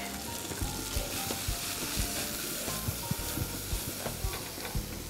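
Diced leek seasoned with salt and pepper starts cooking in a hot pan, giving a steady, close frying sizzle with soft crackles and occasional small pops throughout, no voices.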